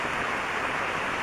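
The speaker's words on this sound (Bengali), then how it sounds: "সকাল থেকে অঝোর ধারায় বৃষ্টি হচ্ছে।" A steady downpour of heavy village rain, continuous broadband hiss at constant level, near and uninterrupted, with no talking.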